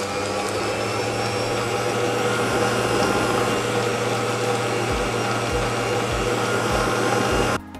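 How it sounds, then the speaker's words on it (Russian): An electric mixer whips cream with condensed milk as pieces of butter are added for a Napoleon cake cream, giving a steady, loud, continuous motor whir that cuts off abruptly at the end. "мы добавляем в миксер по одному кусочку сливочного масла."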